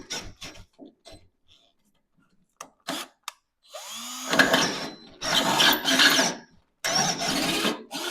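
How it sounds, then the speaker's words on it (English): A few sharp clicks and taps, then an electric drill with a short bit whirs up and bores straight down in short, loud bursts close by into a classic car door hinge for new bushings, with a brief pause between runs. "I had to switch up to a shorter drill just so I can get it in between here."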